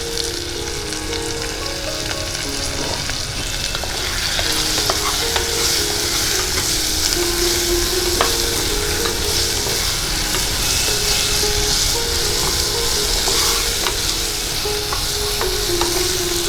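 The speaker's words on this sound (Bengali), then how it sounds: "আলুটা হালকা ভাজা ভাজা হয়ে গেছে।" New potatoes seasoned with salt and turmeric sizzle steadily in a pan during Bengali home cooking, with repeated scraping and stirring strokes over the continuous frying hiss, close and fairly loud, with no talking.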